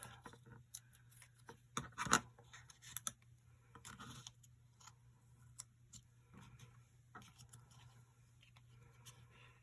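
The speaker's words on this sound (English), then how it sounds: "and then we'll just cut the extra bits off" Scissors snip off the excess edges of a handmade card kit: a series of soft, irregular cuts and paper scratches, loudest around the middle, over a low steady hum in a quiet room.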